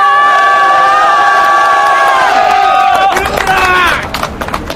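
At a street rally at Cheonggye protesting election fraud, a large crowd roars and cheers together in a loud, sustained shout that breaks into scattered whoops near the end.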